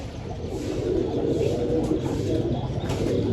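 Pigeons, large breeding birds in a loft, coo softly and continuously, a low steady murmur of overlapping calls close by with no talk.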